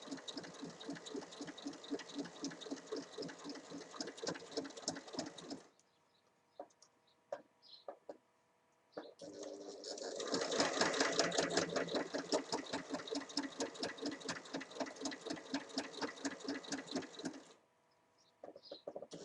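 A sewing machine stitches along the sides of a fabric pouch in fast, rhythmic bursts, running steadily, pausing with a few small clicks and handling noises, then starting again for a longer, louder run before stopping.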